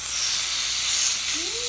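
Chicken sizzles on a grill oiled with canola oil, a steady loud hiss filling the whole moment close up, with a brief faint voice-like tone near the end.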